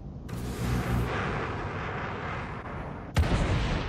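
A spaceship missile launch in the Star Citizen game comes as a sudden loud roaring whoosh that holds for a few seconds, then a sharp second blast near the end.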